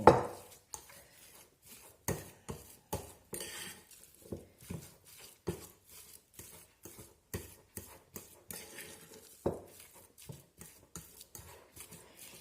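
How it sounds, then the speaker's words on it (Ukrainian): Potato filling for vareniki being stirred and mixed with a spoon, giving a string of irregular knocks and scrapes against the bowl, fairly close and moderately loud with short quiet gaps between strokes. "підперчу чуть-чуть і перемішаю. Все змішаю."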